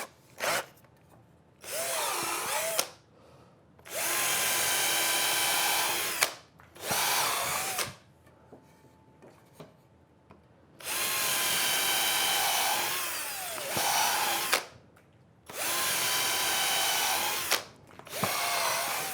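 A power drill bores a hole in soft wood for a trestle build, running in several long whining bursts of a few seconds each, separated by short pauses, close and loud with no talk.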